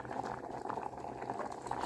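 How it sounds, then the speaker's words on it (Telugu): Elephant yam curry bubbling in a pot over medium heat, a dense, continuous low bubbling and popping heard close and fairly quiet. "మీడియంలో పెట్టుకుని ఒక ఫైవ్ మినిట్స్ బాయిల్ చేసుకుని"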